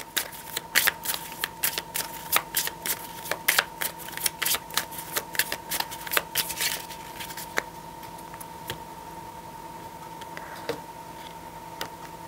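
Tarot cards shuffled and laid out on a table, a rapid run of crisp card flicks and slaps close by, busiest early and thinning to a few sparse taps toward the end, with a steady hum underneath and no talk.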